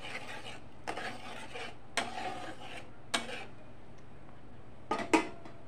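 A spoon stirs Kashmiri chilli masala in a pan for butter chicken, five or six short scraping strokes spaced about a second apart over a quiet background, with a sharper clink near the end.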